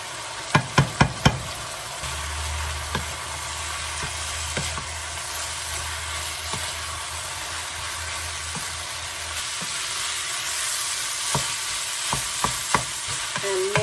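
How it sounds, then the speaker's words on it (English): Ground beef browning with tomato paste in a pot sizzles steadily throughout, opening with a few sharp knocks of a spoon against the pot and ending with more scraping taps. "To our beef, we're going to add 4 tablespoons of tomato paste."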